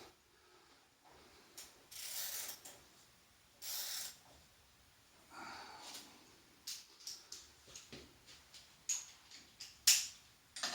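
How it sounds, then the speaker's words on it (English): Ratchet wrench tightening a small bolt at the bottom of an aftermarket exhaust on a Kawasaki Ninja 250 SL motorcycle, heard as bursts of quick clicking, some close and sharp, with quiet gaps between. "Just tighten that little bolt at the bottom."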